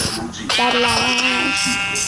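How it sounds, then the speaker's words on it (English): A Minecraft sheep gives a loud, wavering bleat lasting about a second over a steady bed of game background noise. "there's a sheep over there"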